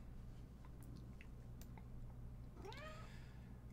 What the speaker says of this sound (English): And cat. Boo Kitty's here.